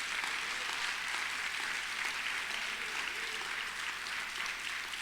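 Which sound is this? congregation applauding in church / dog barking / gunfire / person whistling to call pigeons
congregation applauding in church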